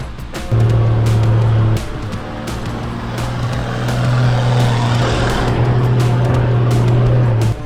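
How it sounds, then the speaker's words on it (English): A 4x4 pushes through soft sand on K'gari (Fraser Island), its engine droning loud and steady at high revs with a surge in the middle and no speech over it. "When driving in soft sand, it's all about wheel speed and momentum."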